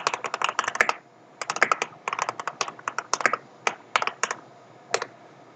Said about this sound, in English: I will type it out in the chat.